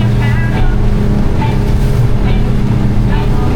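A motorboat crossing open water to the Whitsundays, its engine droning loudly and steadily up close, with water splashing and hull thumps throughout.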